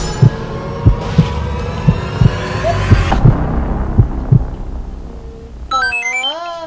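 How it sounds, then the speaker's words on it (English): A heartbeat sound effect added in editing throbs in a steady double-thump rhythm, loud and low under a humming background, before a rising electronic tone cuts in near the end. "Put the heartbeat sound"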